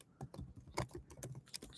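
Keys clatter on a computer keyboard in quick, uneven bursts of close taps, typing out a course link during a question-and-answer call, with no talking over it.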